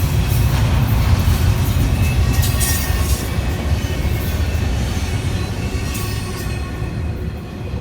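A freight train with a distributed power unit mid-consist rolls past close by in Selma, a loud steady broadband rumble of wheels and cars holding for the whole stretch, with no talk over it.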